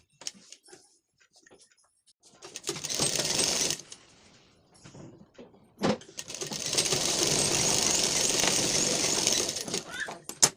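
Sewing machine stitching a lined blouse, with two bursts of steady whirring: a short run followed by a longer continuous stretch, close and fairly loud, separated by quiet handling clicks.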